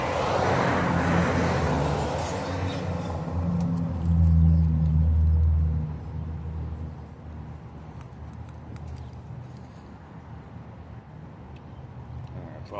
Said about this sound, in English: Apologize for the traffic noise.